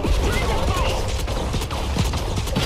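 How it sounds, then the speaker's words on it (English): A sentry gun firing bullets in the shooter game Modern Combat Versus, a dense, continuous rattle of rapid shots under dense game noise, close and loud throughout. "I'm not taking bullets for this freaking sentry gun"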